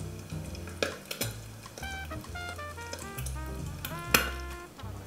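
Soft steady sizzling of eggs frying in a pan, with light crackles and occasional pops, close and quiet with no talking.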